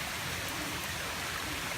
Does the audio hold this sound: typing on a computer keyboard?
no